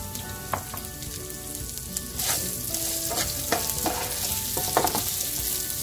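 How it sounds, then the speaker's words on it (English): Boiled potatoes and green beans with turmeric and salt sizzle steadily in a pan over medium flame, stirred with repeated scraping clicks for several seconds. "So we're gonna try and crisp the potatoes just a little bit."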